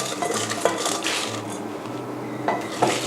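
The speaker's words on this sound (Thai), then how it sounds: "ตอนนี้ก็โขลกให้ละเอียดนะคะ" Shallots, garlic and dried chili, with galangal, lemongrass and kaffir lime leaves, pounded in a mortar, giving sparse sharp knocks among faint clinks against a steady low hum.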